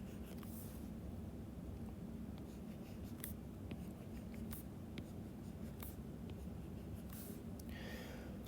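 A pen scratches across paper while someone draws the bones of the hand, making a steady close scratching with frequent short strokes and small taps, no talking.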